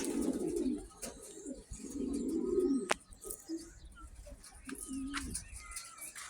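Soft, low pigeon coos come in repeated bursts close by, with faint chirps and scattered clicks in the background.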